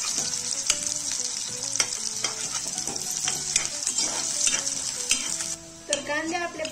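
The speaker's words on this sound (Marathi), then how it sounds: "त्यामध्ये अशा प्रकारे लांबसर 2 बारीक चिरलेले कांदे घेतलेले आहेत। चांगले लालसर होईपर्यंत परतून घेऊ" Two finely sliced onions sizzle in hot oil in a pan, a steady bright frying hiss broken by repeated clinks and scrapes of a spoon stirring, close and continuous.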